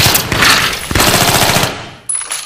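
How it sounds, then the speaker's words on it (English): Rapid automatic gunfire in Battlefield 3 on the Ziba Tower map, close-quarters combat with an M5K: a loud, dense burst that breaks briefly and then fires again. "Someone's shooting at me."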